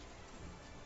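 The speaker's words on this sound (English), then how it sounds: "here we are at the Dino Tree, where it never stops raining apparently" Steady rain hisses at the Dino Tree in Pokémon Sword and Shield, a dense, even wash of falling water filling the short moment with no voices.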